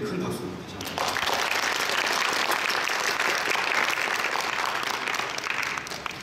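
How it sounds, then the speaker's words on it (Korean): Sustained audience applause follows a keynote lecture by a KAIST robotics professor at an HCI conference session, loud, even clapping rising after a moment of quieter sound and continuing to the end. "좋은 강연 해주신 우준호 교수님께 큰 박수 부탁드립니다"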